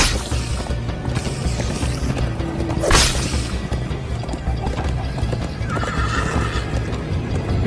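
Horses in the Minecraft Story Mode video game gallop with rapid clip-clopping hooves and a loud neigh, over a steady bed of game sound effects, with a swooshing hit partway through.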